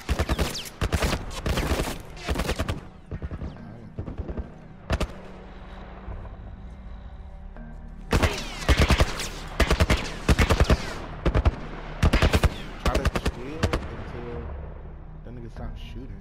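Gunfire in The Last of Us video game: repeated loud bursts of rapid shots and single cracks, clustered in volleys with short pauses between them, while a low steady background hum runs underneath.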